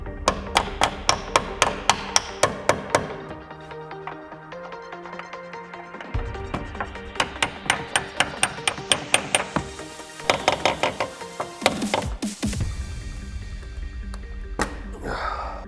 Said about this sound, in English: We'll drive the check strap pin upwards using a hammer